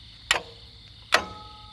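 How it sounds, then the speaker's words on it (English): Two sharp, distinct mechanical clicks from a PTO toggle switch on a rewired Power King garden tractor, about a second apart, close and isolated in a quiet room. "You can hear the PTO click."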